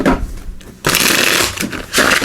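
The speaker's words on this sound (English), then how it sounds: "Let's give these a couple shuffles here." A deck of Tarot of the Divine cards is shuffled, giving quick, close riffling bursts with a brief pause between them.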